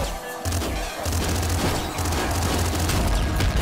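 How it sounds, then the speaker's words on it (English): Hyper Rifle in the game Nuclear Throne firing dense, rapid bursts of crackling shots, loud and continuous with booming impacts throughout. "Oh yeah, Hyper Rifle!"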